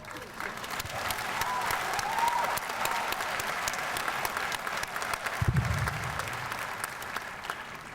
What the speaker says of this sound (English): I didn't ask you to clap again